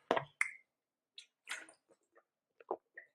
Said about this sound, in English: I'm taking a quick sip of water